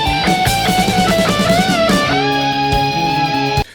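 Electric guitar plays the final phrase of a solo, a quick picked run bending into long, singing held notes with vibrato before cutting off, loud and close, without talking.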